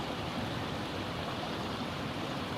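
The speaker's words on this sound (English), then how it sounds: "back to the sound of the water" Steady rushing of flowing stream water in Yosemite Valley, a continuous even babble with no pauses or voices.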